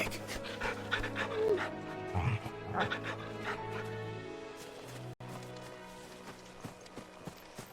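A dog panting in Final Fantasy XVI, steady breathy rhythm over game music with hoof clip-clops nearby, no talk.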